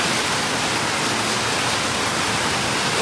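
Heavy rain pours down steadily in a dense, even roar of broadband noise, loud and close, with no voices heard.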